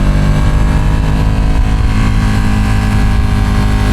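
A Ducati Panigale V2 sport bike with a full exhaust runs close by, its engine a loud, steady, throaty drone that holds constant throughout without pause.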